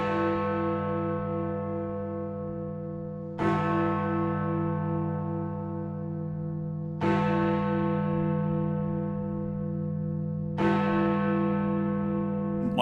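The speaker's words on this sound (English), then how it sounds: "the resonance of the bell goes on for so much longer than you hear in a" A large bell in the Parliament clock tower strikes three times at slow, even intervals, each heavy clang followed by a long, sustained humming resonance that fills the gaps, heard close and loud.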